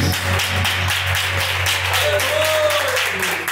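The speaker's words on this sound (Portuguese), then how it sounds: "As palmas para Jesus." A congregation claps steadily and loudly in a reverberant church during a live service, with a low hum underneath and a faint voice rising briefly.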